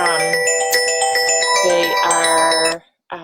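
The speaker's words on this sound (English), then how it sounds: "sorry about the phone call" A phone rings with a steady electronic tone, loud and close, carrying for about three seconds before cutting off into near silence.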